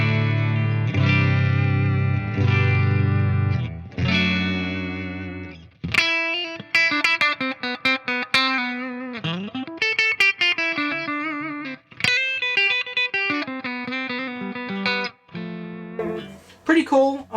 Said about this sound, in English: it's a humbucker on a clean channel